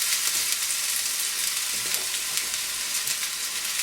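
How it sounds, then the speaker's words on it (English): Leeks and other vegetables sizzle in hot oil in a pan, a steady bright crackling hiss with small pops, close and continuous, no voices. "And you should get a nice sizzle when you put it in."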